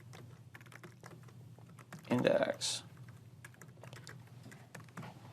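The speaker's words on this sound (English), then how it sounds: "A lot of typing" Clicks from a computer keyboard tap along softly under a voice while code is written, with a brief louder burst of keystrokes near the middle.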